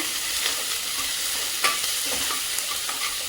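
Garlic, ginger and chilli tempering sizzles steadily in hot oil for a saag, with a few light stirring scrapes breaking through the close, continuous crackle; no one speaks.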